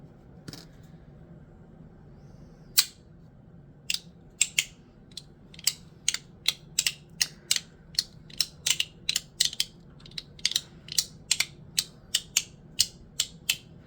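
A rotating plastic mechanism on a pig-nose blind box toy grinds and clicks as it turns, a long run of sharp ratcheting clicks in a steady rhythm, close and crisp, with no talking.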